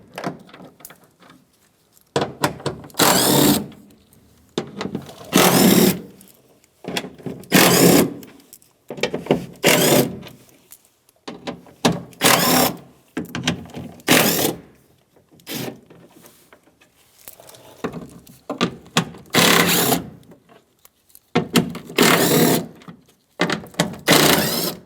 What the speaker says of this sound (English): now we're just going to take out our 10-millimeter bolts all the way around the perimeter of this black piece